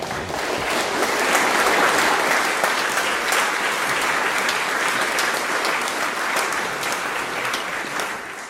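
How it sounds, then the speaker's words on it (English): Audience applause at the close of a University of Edinburgh lecture by Michael Gazzaniga, a full hall clapping steadily and densely, swelling slightly early then holding even to the end. "I think we should have an emergent round of applause"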